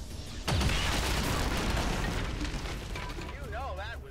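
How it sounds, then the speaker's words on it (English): An explosion in the video game XCOM 2 bursts with a sharp onset into a loud, sustained rumbling roar that slowly fades, overlaid by game sounds and a brief warbling tone near the end. "Good worthwhile explosion."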